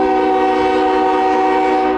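A CSX freight train at a Fostoria, Ohio rail crossing sounds its horn in a loud, sustained chord, with the rumble of the passing train beneath it and no voices.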